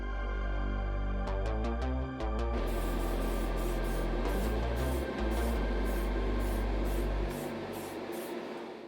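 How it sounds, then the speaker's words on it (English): An aerosol can sprays clear lacquer over a customised Hot Wheels Mini Cooper S model in a steady close hiss, opening with a few short bursts and then rhythmic pulsing passes before fading. "all the detailing is secured with a few coats of clear lacquer"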